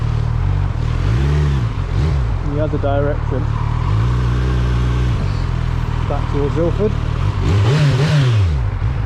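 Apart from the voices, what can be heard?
Kawasaki Z900 2025 motorcycle engine while riding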